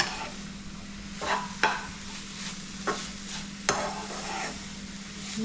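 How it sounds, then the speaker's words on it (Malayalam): A spoon stirs nettle leaf thoran in a pan with raw coconut oil, giving a steady soft sizzle broken by a few scraping strokes, close and alone without speech. "അപ്പം പച്ച വെളിച്ചെണ്ണ ഒഴിച്ച് ഞാൻ ഒന്ന് നന്നായിട്ട് ഇളക്കിയെടുക്കാം"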